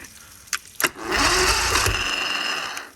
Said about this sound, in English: so as you can hear, we got the boat running